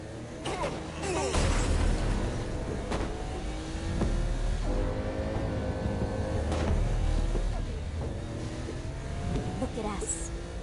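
A car drives in Saints Row: Gat out of Hell, its engine a steady mid-level hum with shifting tones throughout, while voices talk over it.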